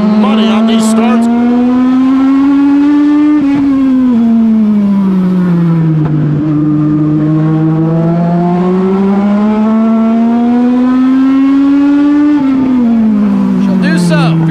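Legends race cars drone loudly and close at Charlotte during a Summer Shootout semi-feature, their engine pitch rising and falling through the laps. A commentator talks over the roar.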